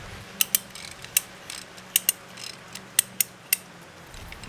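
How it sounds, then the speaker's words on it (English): A socket turns a wire tensioner on a backyard vineyard trellis, giving about a dozen sharp ratchet clicks, mostly in pairs, close and clear over a quiet outdoor background. "Now normally you do need a little tool to make this spin, but all you need really is a socket."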